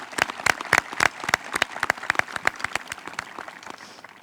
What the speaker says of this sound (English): Could we please give a big round of applause for Mr.